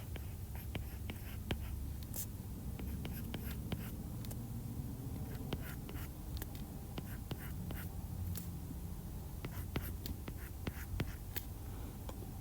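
Pencil sketching a Pokémon (Bouffalant) drawing on paper: steady close scratching and scraping strokes with frequent light taps, continuous and quiet with no voices.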